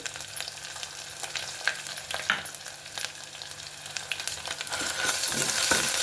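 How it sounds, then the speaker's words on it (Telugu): Ginger garlic paste frying with onions in a pan for chikkudu ginjalu biryani sizzles steadily close up, with scattered spatula stirs and scrapes, the hiss growing louder toward the end. "ఇప్పుడు అల్లం వెల్లుల్లి పేస్ట్ వేసాను."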